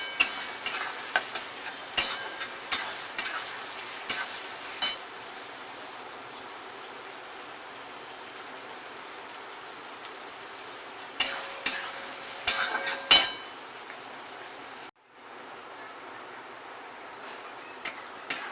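Chopped onion sizzles steadily in a pan as it is fried until reddish-brown for misal pav, with bursts of spatula scraping and stirring clusters, then a brief quiet pause before the frying resumes.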